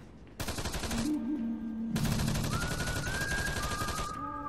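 Sustained automatic gunfire in the video game Arma 3 rattles in long dense bursts with a brief gap, loud and continuous, while game tones sound beneath.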